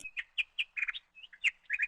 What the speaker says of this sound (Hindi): दूसरी तरफ टीना और उसका बेटा मोनो चिड़ा बैठकर दाने खा रहे थे